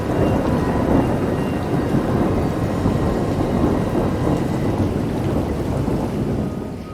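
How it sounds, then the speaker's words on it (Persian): A heavy thunderstorm keeps up dense, loud rain, and low thunder rumbles continuously underneath. The sound holds steady for the whole stretch and eases off slightly at the end, with no voices. "از شانس بدش بارون و رعد و برق هم شروع کرده بوده به اومدن"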